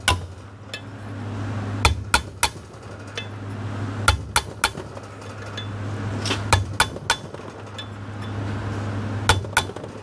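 A hammer taps on the valves of a KIA engine short block, giving sharp metallic clinks in irregular clusters of two to four light strikes over a steady low hum, no voices.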